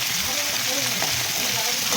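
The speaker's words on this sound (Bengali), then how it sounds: "লাল লাল করে ভাজতে হবে" Fish head, tail and belly pieces with potato and cabbage fry in hot oil in a pan, giving a dense, continuous sizzle with light stirring, loud and close.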